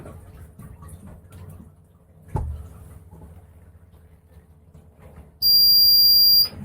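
A boat's bilge pump high-water alarm, set off by lifting the float plunger by hand, gives one loud, shrill electronic tone lasting about a second after some quiet handling clunks.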